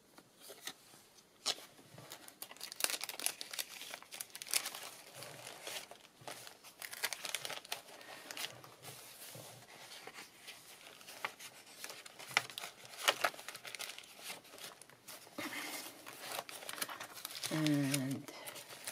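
Painted paper crinkles and rustles in dense, irregular bursts as it is handled close by, with occasional voices in the background.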